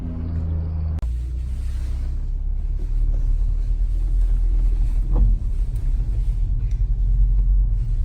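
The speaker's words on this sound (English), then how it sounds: "today we're driving the mk6 first. We're just going to take it through some corners" Volkswagen GTI mk6 with a 2.0 turbo engine and DSG gearbox driving through corners: a steady, loud low rumble from inside the car with no talking.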